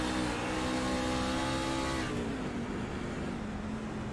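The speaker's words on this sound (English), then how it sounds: "You can hear the truck getting really loose now." A race truck engine in a sim racing video game roars at sustained high revs, holding a steady tone that drops in pitch partway through as the truck slides loose, loud and continuous with no talk.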